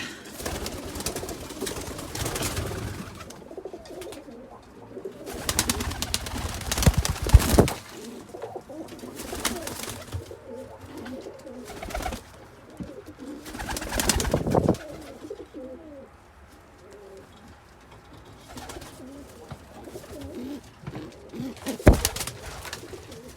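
Homing and roller pigeons coo in bursts around a loft, soft rolling calls coming and going with quieter gaps and occasional sharper knocks, nearby and without talk.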